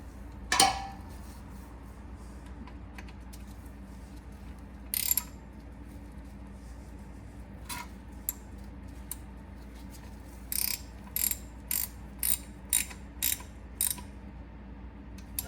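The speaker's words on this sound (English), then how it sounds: "Okay, it's in. And tighten it up." A ratchet tightens the drain plug on a Jeep Grand Cherokee WK2 transfer case, first with a few isolated clicks, then a run of short rapid ratcheting bursts, close and clear with no talking.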